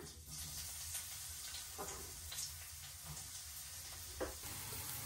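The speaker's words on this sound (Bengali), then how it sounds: "এখন এই যে পেঁয়াজ কুচিটি দিয়ে দিলাম।" Chopped onion frying in hot oil in a pan with a dried chilli, giving a steady close sizzle with a few stirring scrapes and clinks, no talking.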